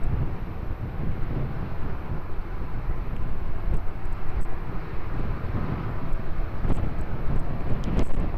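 An airplane takes off at Lisbon Airport, a broad, steady jet roar with wind buffeting the microphone, heard from a distance and holding at a fairly even level.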